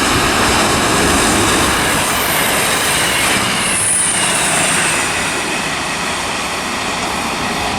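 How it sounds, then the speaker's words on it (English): South Western Railway Class 159 and 158 diesel units pass through Weybridge station with a loud, sustained rumble and roaring wheel noise on the rails throughout, without fading. "Also got a couple of trains passing through here."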